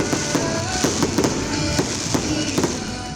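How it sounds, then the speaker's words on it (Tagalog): Fireworks at the Iwag 2025 opening in Pototan Public Plaza crackle and boom in repeated loud bursts, several sharp bangs spaced through a continuous crowd and crackling din. "Madinuagon nga fireworks"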